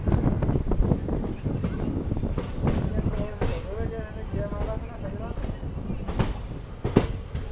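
Special train 09561 from Rajkot to Porbandar pulls away from platform 1 at Bhaktinagar station, with a continuous rumble and some wheel clatter, wind buffeting the microphone and someone talking over it.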